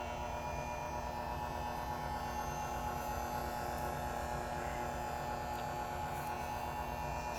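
A Vitamix VM0145 commercial blender runs with no cup fitted, giving a quiet, steady motor hum and whir that holds evenly from start to end.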